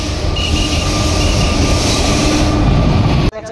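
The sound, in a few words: Bhagirathi Express train arriving at Beldanga station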